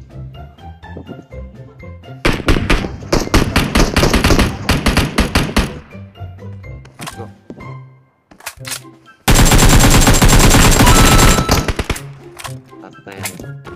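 Automatic gunfire in the PUBG Mobile video game, loud rapid bursts of shots, one long burst mid-way and another dense volley later, with people talking between them.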